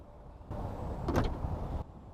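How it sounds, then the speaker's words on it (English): A Volkswagen Tiguan's tailgate moves with a short motorized whir and a soft clunk in the middle, all over in about a second. "We open the boot and close it the same easily way without any jams."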